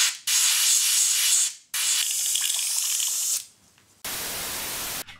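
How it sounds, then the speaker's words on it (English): An airbrush sprays white paint over a stop-motion robot puppet model in three steady hissing bursts of a second or more each, with short silent pauses between them and no talking. "And now I'm going to spray over with white"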